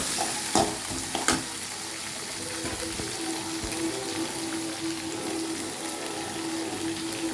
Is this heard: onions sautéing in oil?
yes